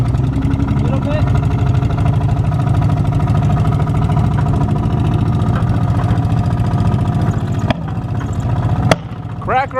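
A stolen dirt bike nicknamed Crack Rock runs for its very first time, its engine chugging steadily and loud at close range, ending with a couple of sharp backfire pops near the end.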